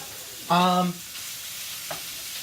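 Ground pork browning in a pan gives a steady, soft sizzle as it is stirred, with one brief squeaky tonal note early on and a faint scrape later.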